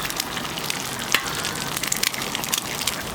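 Eggs sizzling and crackling on a hot griddle, a steady bright frying hiss with small pops throughout, close and continuous with no talking.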